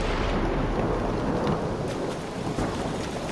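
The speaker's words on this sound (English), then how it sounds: "Well, now I'm kind of giving up on the lightning strikes." Thunder from lightning strikes in the video game ARC Raiders rolls as a loud, steady roar mixed with heavy rain, with no talking.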